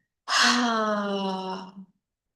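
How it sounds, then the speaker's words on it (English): A deep breath let out with a voiced "ha" during a Ho'oponopono healing session: a single long, breathy exhale that starts strong and fades over about a second and a half, close and alone. "Take a deep breath, hold it on, and exhale."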